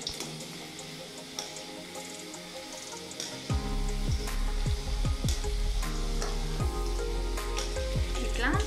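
Cauliflower pakodi frying in hot oil, a steady sizzle that swells as fresh batter drops in, with repeated soft plops and splashes over a bubbling hiss.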